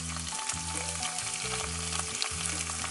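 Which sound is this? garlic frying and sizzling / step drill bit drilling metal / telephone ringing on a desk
garlic frying and sizzling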